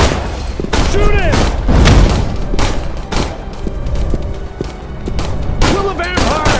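Rapid bursts of gunfire and heavy thuds from a first-person vampire-hunting video game, volleys repeating through the scene as shouting voices and game music carry on around them.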